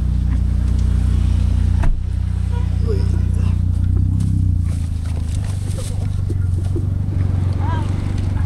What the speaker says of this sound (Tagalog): Ganda ng tunog ng sasakyan ni Sir Raymond.